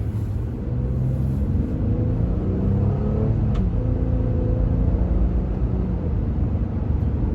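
Pickup truck driving on the road, a steady low engine rumble and road noise heard from inside the cab, continuous and fairly loud with no talking.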